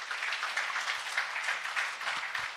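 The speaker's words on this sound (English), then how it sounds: "I would like us to all give a warm round of applause to our panelists this morning." Conference audience at a business summit giving panelists a round of applause, an even, moderately loud spread of clapping in a hall, continuous from start to finish.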